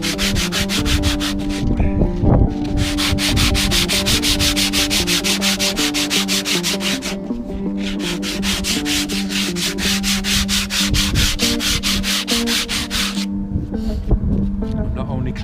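Two wooden guitar necks clamped and taped together being sanded and shaped by hand, a steady, continuous close rubbing rasp in long strokes with brief pauses, over a constant background hum.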